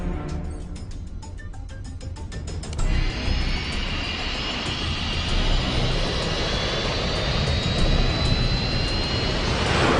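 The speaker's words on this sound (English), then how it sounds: "Ready for takeoff." A jet aircraft powering up and taking off, a loud continuous engine roar that swells with a rising whine, preceded by a brief rhythmic mechanical pulsing before the thrust builds.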